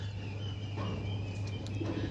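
Pigeons kept as birds for sale coo softly in a low, steady murmur, with a few faint chirps, over a constant background hum and no talking.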